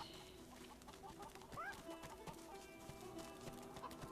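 Chickens cluck softly in the Divinity Original Sin 2 Definitive Edition video game, with a few short, scattered clucks and a brief rising call over quiet game ambience.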